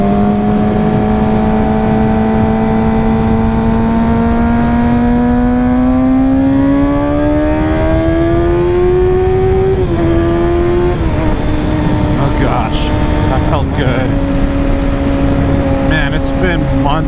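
A Kawasaki Ninja ZX-6R motorcycle accelerates up a freeway on-ramp, its engine whine climbing steadily through the gears with a few shifts, loud and close with constant wind rush.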